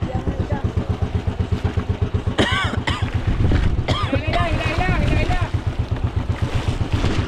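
A motorboat engine chugs in a steady, close, rhythmic pulse while towing two boats at sea, with people talking over it.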